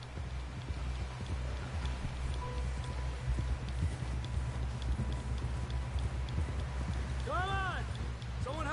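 Horse hooves clip-clop steadily in Red Dead Redemption 2, a faint rhythmic trot under background noise and a low hum, with voices speaking over it.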